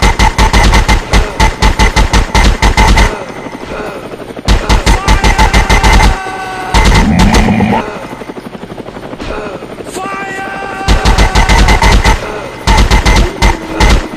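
Video game Commando fires loud, rapid machine-gun bursts in repeated volleys, broken by short pauses and backed by a droning engine-like hum.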